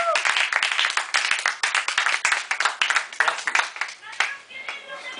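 An audience claps and applauds steadily and densely throughout, a crowd of many hands honoring the coordinators of a movement at a meeting.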